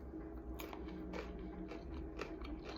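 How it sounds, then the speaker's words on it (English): Raw cauliflower bitten and chewed, giving a few quiet, close crunches in quick succession over a soft background hush. "let's all hold up our cauliflower and we're gonna count down from 3. And then we'll take a little bite."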